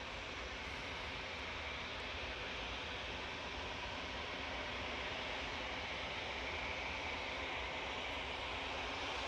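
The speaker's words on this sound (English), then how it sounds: "This Ryanair is a Boeing 737-800 off to Girona in Spain" A Ryanair Boeing 737-800 jet airliner, bound for Girona from Manchester Airport, produces a steady, broad roar that holds at constant loudness throughout, with no voices over it.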